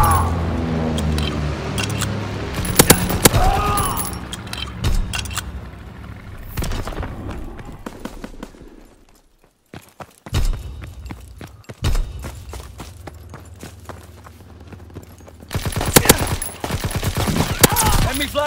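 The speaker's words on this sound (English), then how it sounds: "Enemy flak incoming." Enemy anti-aircraft flak fire in the Call of Duty WW2 video game, a loud barrage of rapid bursts and booms with a brief lull midway before the firing resumes.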